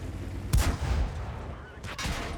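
A tank gun fires in World of Tanks on the Fjords map: two heavy booming shots about a second and a half apart. Each blast is followed by a short rumbling tail, with no speech over them.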